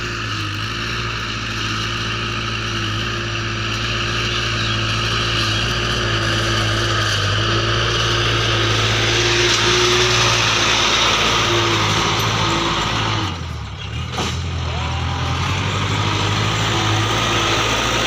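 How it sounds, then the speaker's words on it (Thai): Loud, steady diesel engine rumble from a Kubota L5018 tractor pushing and plowing nearby, with a strong low drone and a brief dip before it resumes. "เห็นรถไถดันตรงนี้นะไถมาเลย"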